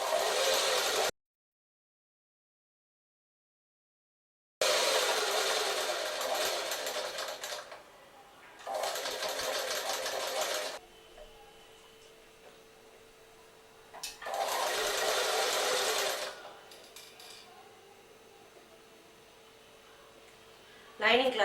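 A sewing machine stitching lining cloth onto a chudidhar runs in several steady bursts of rapid mechanical whirring, separated by pauses with faint room noise.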